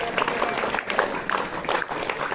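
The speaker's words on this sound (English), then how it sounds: "Yes, give a huge round of applause" A school assembly crowd at Jawahar Navodaya Vidyalaya, Karimganj, claps for the new school captains with dense, steady applause of many hands nearby. Faint voices can be heard underneath.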